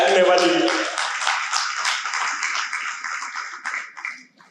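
Audience clapping at a stand-up comedy show: a dense burst of applause that starts loud over the tail of a voice and gradually thins and fades over a few seconds.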